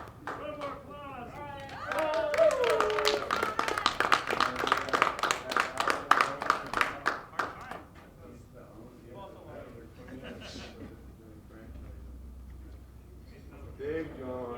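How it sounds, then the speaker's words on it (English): Scattered clapping from an audience with voices mixed in, rising for a few seconds and then fading into background chatter. "One more applause."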